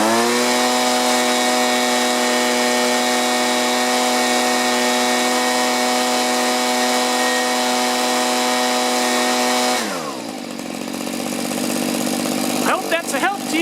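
A STIHL chainsaw engine, just adjusted at the carburetor, runs at a steady, loud idle for about ten seconds, then shuts down and winds to a stop, leaving a few handling clatters at the end.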